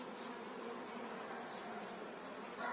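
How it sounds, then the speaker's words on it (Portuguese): A swarm of bees hums with a dense, steady drone close by a captured hive box, continuous throughout with no voices. "Em princípio se confirma que essa abelha não é defensiva"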